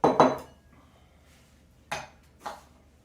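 Knife chopping Brussels sprouts on a cutting board: a cluster of sharp close taps at the start, then two separate cuts after a quiet pause.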